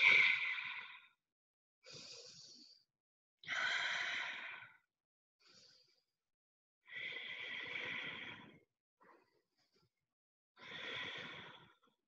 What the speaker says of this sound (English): If you can try that Ujjayi breathing, go for it. That's the audible breath.